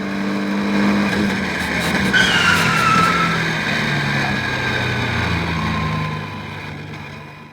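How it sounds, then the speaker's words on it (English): A race car locks up its tyres braking hard into a tight hairpin on a track day, a loud sustained skid and screech over engine noise that fades away toward the end. "that became evident at one point with a huge lockup into a tight hairpin."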